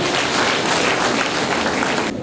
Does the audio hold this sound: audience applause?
yes